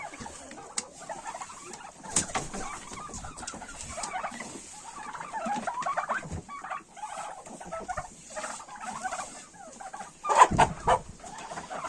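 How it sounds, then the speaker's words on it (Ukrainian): A bronze or red turkey gobbles in a loud rattling burst amid ongoing clucking and murmuring from chickens nearby. "Ось таке індик наш робить."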